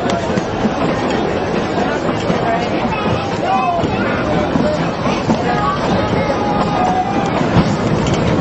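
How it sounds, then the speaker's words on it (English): A Durango and Silverton railroad train passes during a railfest as a continuous rumble with clattering and faint squeals, heard close and loud. Crowd chatter from onlookers mixes in beneath it. "There's the train!"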